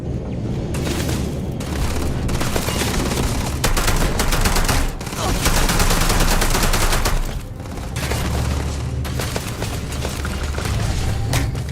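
Sustained gunfire in the sci-fi game Starfield, a dense rapid fusillade of loud shots running almost continuously, with heavy booms layered in and only a brief dip near the middle.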